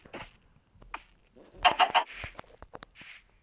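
Short bursts of clucking and chirping from video game chicks, several calls in quick succession separated by brief quiet gaps.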